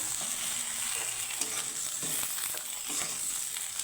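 Okra fries in a pan with a continuous hissing sizzle and occasional soft clicks of stirring, close and steady for a few seconds, with no speech.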